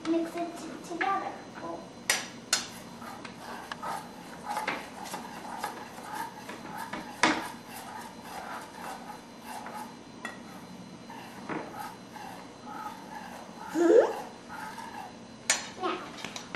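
Cake ingredients being mixed in a bowl for a chemistry cake, with faint scraping and occasional utensil clinks against the bowl, quiet and intermittent, and a voice now and then.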